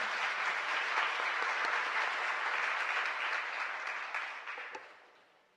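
Congregation applauding in a parish church, a broad, sustained wash of many hands clapping that holds steady and then tapers off toward the end, with no talking over it.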